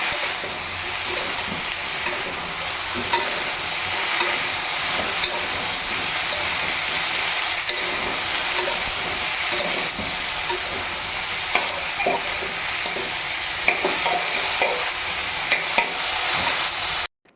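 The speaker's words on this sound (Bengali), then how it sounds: "সবজিগুলো ভেজে চালে ডালে সব দিয়ে দিয়েছি এদিকে দেখো ডালটাও ভাজা হচ্ছে" Vegetables, rice and dal fry together for vegetable khichuri with a continuous dense sizzle and hiss. Occasional clinks and scrapes from stirring sit close by and stay unbroken until an abrupt stop.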